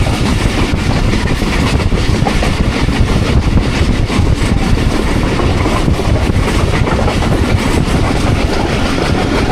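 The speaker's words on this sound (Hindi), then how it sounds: "मंक्याला रेलवे स्टेशन को थ्रू पास कर रही है 46 डाउन पाकिस्तान एक्सप्रेस" Pakistan Express 46 Down passing through Mankiala railway station without stopping on a rainy early morning, a loud steady rush of wheels and carriages rumbling past close by for the whole stretch.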